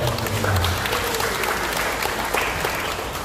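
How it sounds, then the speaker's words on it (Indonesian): At a village officials' inauguration ceremony, an indoor audience gives steady applause, a dense, even wash of clapping at moderate loudness with a faint voice briefly underneath at the start. "Tepuk tangan Mbak Usun dan Mbak"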